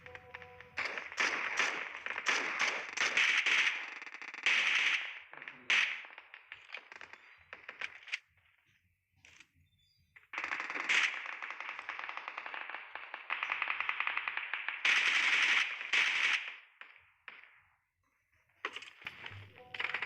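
Rapid bursts of PP submachine gun fire in PUBG Mobile on the Erangel map as a bot is shot down, loud clattering volleys separated by short pauses, with no talking.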